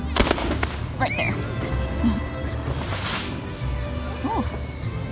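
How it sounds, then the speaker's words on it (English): Fireworks going off at an outdoor gathering in Oaxaca or Puebla, Mexico, sharp cracks and pops scattered through dense crowd noise and ambient din, with whistling streaks rising above the steady background roar. "Those sounds you're hearing, it's those fireworks."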